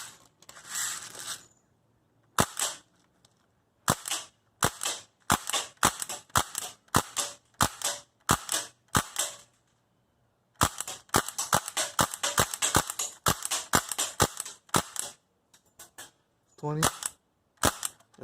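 An Umarex Tactical Force CQB CO2 airsoft rifle fires more than a dozen sharp, loud cracks, some singly and some in fast strings, with short quiet gaps and brief talk between shots.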